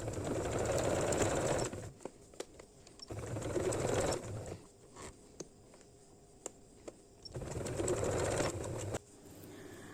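A sewing machine stitches a woolen baby frock in loud whirring runs of a couple of seconds each, broken by pauses with small mechanical clicks and ticks.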